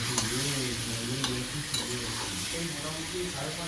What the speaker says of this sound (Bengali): তো আমি এটা এখন ভাজতে থাকি।